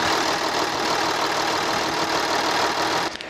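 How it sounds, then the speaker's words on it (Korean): A V6 diesel engine in a Hyundai Veracruz idles steadily up close with the hood open, an even rumbling drone that holds without change and cuts off briefly at the very end. "엔진 소리 한번 들려드릴게요."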